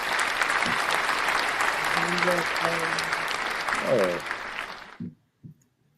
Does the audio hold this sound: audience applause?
yes